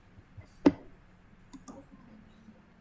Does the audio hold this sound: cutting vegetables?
no